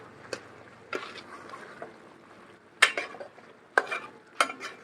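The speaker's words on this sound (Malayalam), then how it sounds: "ഒരല്പം പച്ച വെളിച്ചെണ്ണയും കൂടെ ഒഴിച്ച് നല്ലോണം ഇളക്കി അങ്ങ് എടുത്ത" A spoon stirs pepper chicken curry finished with raw coconut oil in a pan, giving irregular loud scrapes and clatters over a faint background sizzle, close by and with no speech.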